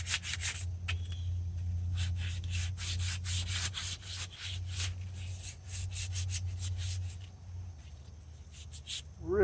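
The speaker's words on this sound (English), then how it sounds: "I have some 220 grit sandpaper." A tractor part rubbed by hand with 220 grit sandpaper during a front wheel bearing job on a Ford 660, steady back-and-forth scratchy strokes over a low constant hum, close and fairly quiet.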